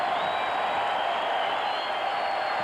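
A packed arena crowd at a 1991 Bulls versus 76ers NBA playoff game roars steadily, a loud dense wash of voices with no breaks.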